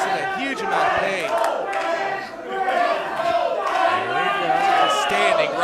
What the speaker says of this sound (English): And the crowd chanting for Brad, but John is the man.